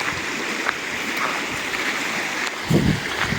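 Fast-flowing stream water at Dhumalwadi waterfall near Phaltan, Satara, Maharashtra, rushing in a steady broadband roar throughout, with a louder surge of splashing near the end; no talking.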